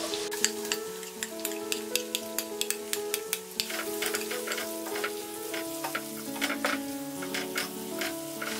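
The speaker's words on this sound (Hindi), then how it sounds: "गार्लिक फ्राई होने के बाद हम डालेंगे ये अनियन" Onions sizzling in hot oil with fried garlic and green chili in a pan for tempered leftover rice; a steady, close crackle with sharp spatter pops and occasional stirring clicks, no voices.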